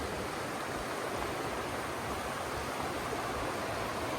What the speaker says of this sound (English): it's flowing faster and faster. You can't see it very well through the trees, but man, you can hear it.